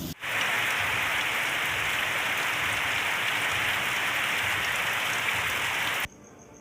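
Rain pours outdoors during a power cut, making a dense, even hiss that holds steady for about six seconds, then stops abruptly.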